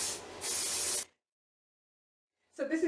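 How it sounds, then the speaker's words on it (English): Two short hissing bursts of an aerosol makeup fixing spray, then silence, followed by another brief spritz near the end. "apply some fixing spray to ensure longevity"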